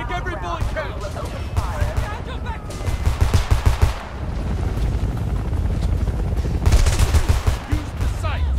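Gunfire in the Homefront video game, with repeated rapid bursts of automatic weapons and a helicopter droning overhead, loud and dense, while voices talk over the shooting.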